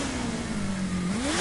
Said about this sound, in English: All I can hear is that blooming motorbike